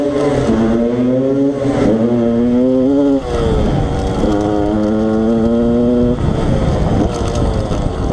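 A Yamaha YZ 125 two-stroke motorcycle converted for enduro, with a six-speed gearbox, revs hard and close. Its buzzy, continuous engine note climbs through several gear changes, with brief dips between pulls and no talking.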